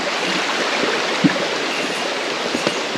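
A small creek runs over stones through Alaskan woods, a steady, close, broadband rush of flowing water lasting throughout, with a couple of faint knocks in the background and no talking.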